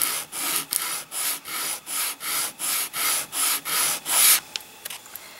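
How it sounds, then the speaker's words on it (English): A medium grit sand sponge rubs the uneven edges of a tissue-box pendant in a steady series of about ten close, even back-and-forth strokes, then stops with a few light scrapes. "So I'm using a medium grit sand sponge."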